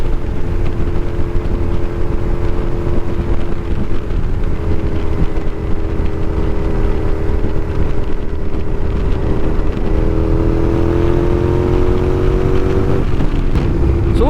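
An 18-year-old 2006 Suzuki SV650 motorcycle is ridden at steady speed, its engine droning continuously under heavy wind rush, with a gradual pitch change toward the end.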